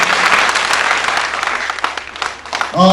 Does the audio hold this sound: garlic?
no